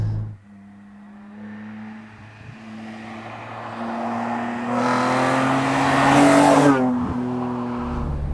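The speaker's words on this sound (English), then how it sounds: "That straight sixes just burbling away in the background." A 2006 BMW Z4 M Roadster's straight-six engine burbles steadily at part throttle, a low humming drone that swells midway with a brief rise in revs before settling, heard from inside the car.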